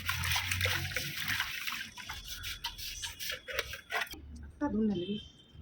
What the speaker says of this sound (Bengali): বাসনগুলোকে ধুয়ে নেব এক এক করে যাতে কোনো ময়লা টয়লা না থাকে